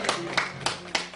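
A church congregation claps in an even rhythm, four sharp claps spaced evenly over about a second, moderately faint and without talk.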